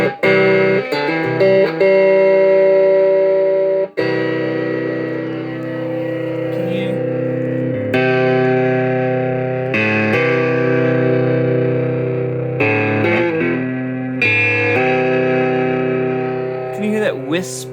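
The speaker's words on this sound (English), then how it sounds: "whisper of distortion that seems to be mixed in with the clean signal?" An electric guitar plays through a Peavey Decade amp, with a faint distortion blended into the clean signal. Sustained chords and notes ring out loudly, separated by brief breaks and restrikes.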